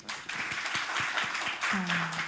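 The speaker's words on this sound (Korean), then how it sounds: "박수 부탁드립니다." An audience claps in a brief, moderately loud burst of applause, with a voice speaking partway through.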